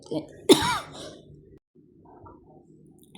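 A man gives one sharp cough followed by a rough throat clearing, close and fairly loud, then quiet room tone.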